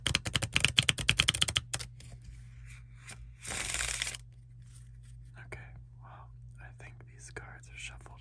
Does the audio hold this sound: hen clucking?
no